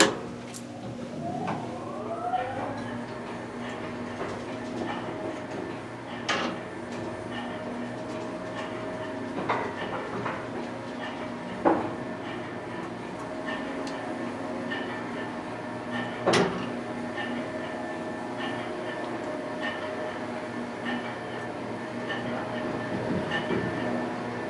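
An antique General traction elevator descends to the basement, its steady mechanical drone and motor whine running throughout with rising pitch early on, punctuated by several sharp clunks and clicks of relays and machinery.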